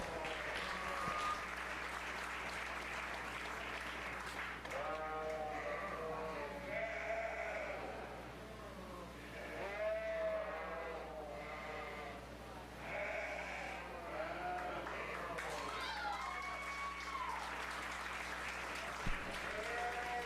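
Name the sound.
audience applause at 4-H fair sheep show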